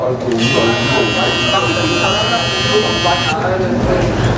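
Braun Series 9 electric shaver buzzing at a product launch event, a steady, loud mechanical hum sustained for about three seconds beneath ongoing talk in a busy room.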